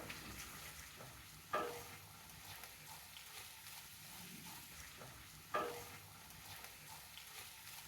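Cabbage pieces cooking slowly over low heat in a pan make a faint, steady sizzle, broken by two sharp utensil knocks against the pan several seconds apart.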